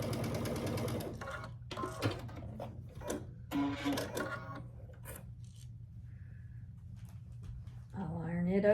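Sewing machine stitching a long seam on quilt fabric, steady close mechanical whirring in short bursts that start and stop, with brief pauses and some handling noise between runs.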